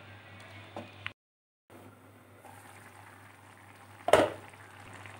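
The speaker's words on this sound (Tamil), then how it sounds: "இப்போ வந்து இது நல்லா கொதிக்கட்டுங்க." Low, steady bubbling and simmering from a covered pot of Tamil eggplant tamarind curry, briefly cutting out, then a sharp clatter of a lid or utensil near the end.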